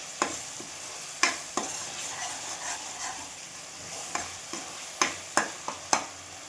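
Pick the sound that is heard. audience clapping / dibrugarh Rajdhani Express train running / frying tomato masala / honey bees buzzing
frying tomato masala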